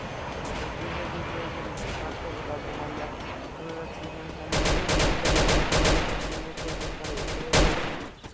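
Gunfire in a video game: dense rapid bursts of automatic shots, with louder volleys in the second half, heard under someone talking.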